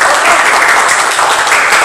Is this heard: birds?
no